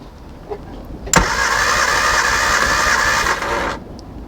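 A Classic Mini engine cranks over at full throttle during a compression check: a sharp onset, then a loud, steady starter-driven whir lasting a few seconds before cutting off abruptly, with no talking.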